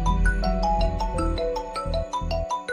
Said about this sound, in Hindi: सिला की कॉल आ रही है?